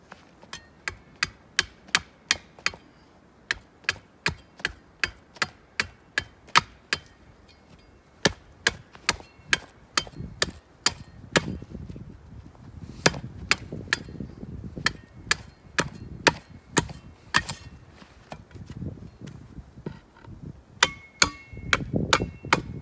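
A wooden hammock pole is sharpened by chopping outdoors on a winter hike, a long run of sharp, evenly spaced blade strikes on wood with short pauses between bursts and wind rumbling underneath.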